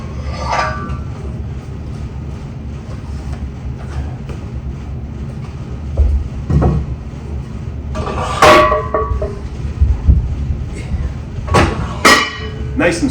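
Metal weight plates clank as they are loaded onto an Ormaise leg press machine, a few sharp knocks and clinks near the end over low background rumble.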